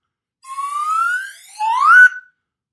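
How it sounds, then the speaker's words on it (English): A slide whistle plays two sliding notes alone: a long upward glide, a short dip, then a second rising swoop that ends quickly, clear and fairly loud. "Here's my slide whistle."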